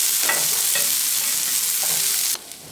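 Onions sautéing and being stirred on a hot dosa griddle, a steady close sizzle with scraping stir strokes, cutting off near the end.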